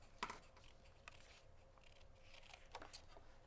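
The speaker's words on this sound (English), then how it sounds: "Who likes the sound of cutting?" Scissors snip through paper at a scrapbooking craft table, a few faint, crisp cuts spread apart with no talking over them.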